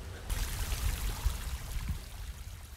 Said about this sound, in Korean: 야, 물소리가 기가 막히네요.